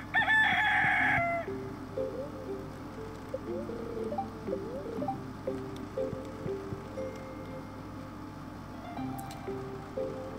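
A rooster crows loudly once at the start on a Stardew Valley farm, then gives way to soft, bouncy game music with light ticking, and no voices are heard.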